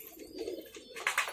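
Desi pigeons cooing in a loft, low murmuring coos close by with brief rustling and a sharper burst near the end, over steady background noise.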